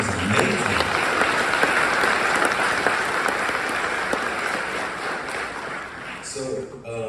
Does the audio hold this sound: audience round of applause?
yes